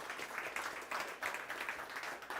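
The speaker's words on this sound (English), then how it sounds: "Let's give a round of applause to these folks." Quiet, distant applause from an audience at a company all-hands meeting, steady pattering claps over a couple of seconds.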